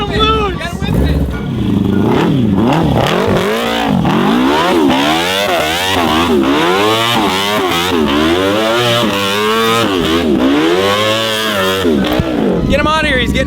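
A quad fitted with a 170-horsepower sport-bike engine revs hard and repeatedly, its pitch climbing and falling in rapid wavering sweeps as the wheels spin loose, loud and close throughout.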